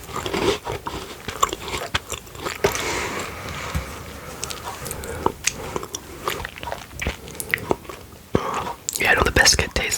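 Close-up crunchy bites and soft chewing of a British cream biscuit, with whispered talk mixed in between the mouth sounds.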